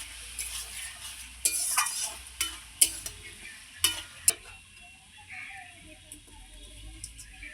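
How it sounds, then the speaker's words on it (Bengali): A fried fish head goes into a pan of cooking ash gourd and is stirred, with sharp spatula scrapes and clacks coming in irregular bursts over a gentle sizzle that settles toward the end. "এই যে মাছের মাথাটা দিয়ে দিচ্ছি।"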